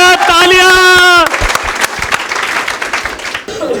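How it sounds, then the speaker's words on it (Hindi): Applause breaks out at a farewell event for a sociology coaching batch, starting under a sustained sung or cheering voice and then continuing as dense, loud clapping from the audience. "तालियां तालियां तालियां।"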